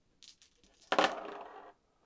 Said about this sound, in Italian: lei va a tirare sui dadi da distanza che sono 4